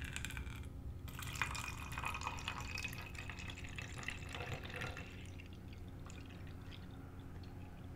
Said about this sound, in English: And we're just going to put that in our spray bottle.